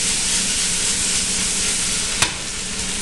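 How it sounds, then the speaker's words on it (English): Eggplant simmers and sizzles in sauce with a steady close frying hiss, and a single sharp click cuts in about two-thirds through. "while this is all cooking and simmering in the sauce"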